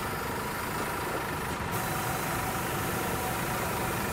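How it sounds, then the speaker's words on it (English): A bus engine in a driving video game rumbles steady and loud, a dense low idle-like drone that fills the whole stretch without letting up. "is the sound of the bus too loud?"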